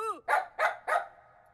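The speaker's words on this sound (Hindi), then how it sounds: "फिर ये कुत्ता भौंकता है" A dog gives three sharp barks in quick succession, close and fairly loud, after a brief rising whine at the start.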